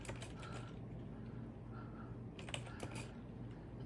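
Typing on a computer keyboard to search an online store, with a few short bursts of faint key taps over a steady low room hum.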